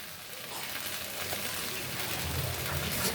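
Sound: okra frying in a pan on medium heat

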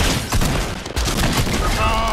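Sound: gunshots from the video game Fortnite

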